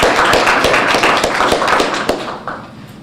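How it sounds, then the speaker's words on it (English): An audience at an energy-institute event on shale gas applauds a colleague, dense close clapping with sharp individual claps standing out, loud at first and thinning as it fades toward the end. "Let's give Trina a round of applause,"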